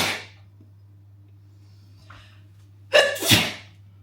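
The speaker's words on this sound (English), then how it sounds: "I need to sneeze again." A woman sneezes twice in a row near the end, a sharp close burst after a brief quiet buildup, with a faint earlier breathy sound and steady low hum underneath.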